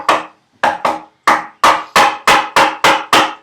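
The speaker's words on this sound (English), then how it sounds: "And just steer your chisel back to your crosscut." A chisel splits chunks of wood from a tenon cheek on a workbench: about nine sharp, close wooden knocks, with an opening pair, a pause, then a quicker run of strikes, each ringing off briefly.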